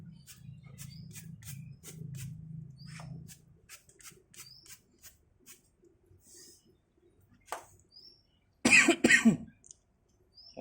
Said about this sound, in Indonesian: sorry lagi batuk saya